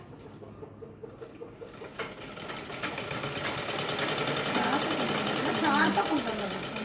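Sewing machine stitching a blouse: a rapid, even mechanical clatter starts softly and builds into a steady, close whirring run, with a voice talking over it.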